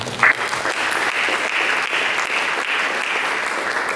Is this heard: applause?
yes